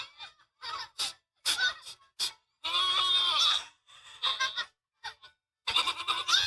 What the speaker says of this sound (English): fainting goat